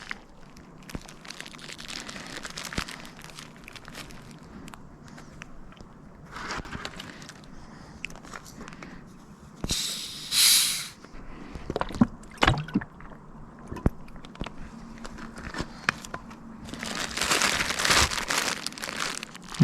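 Food packaging crinkles and rustles in irregular bursts with soft chewing and handling noises close by during a camping dinner in a guarded power station, with no talk.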